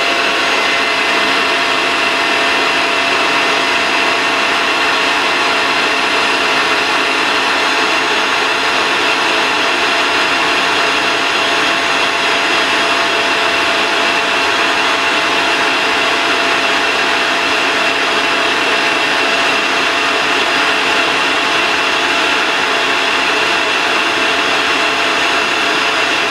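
An electric mixer beats egg yolks as hot sugar syrup at 110 degrees is poured in for a rum-raisin ice cream base; a steady, loud motor whir runs unbroken with no talking.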